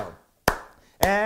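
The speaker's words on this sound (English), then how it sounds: "If you have hands, you can clap them together." Two sharp hand claps, spaced about half a second apart, close and loud, each followed by a brief ringing tail.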